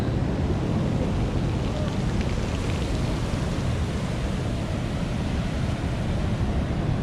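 Steady roar of ocean surf with roughly two-metre waves at Portixol, Mallorca, mixed with constant wind buffeting the microphone, loud and unbroken throughout.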